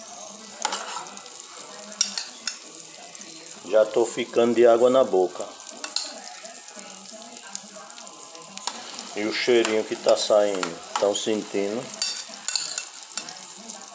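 Bananas frying in butter in a pan, a soft steady sizzle with occasional stirring throughout, while a person talks at intervals over it.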